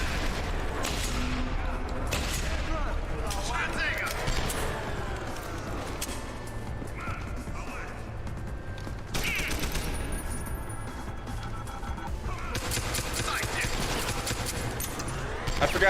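Armor-piercing pistol gunfire in the video game Deus Ex: Human Revolution, with repeated loud shots and impacts over dense combat noise lasting throughout, mixed with some voices.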